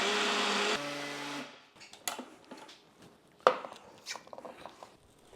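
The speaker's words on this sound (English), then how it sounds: "throw this bad boy on the blender" A blender whirs loudly and steadily for about a second and a half, blending a strawberry, banana and peanut butter powder protein smoothie, then cuts off, followed by scattered clinks and handling sounds of the jar and kitchenware.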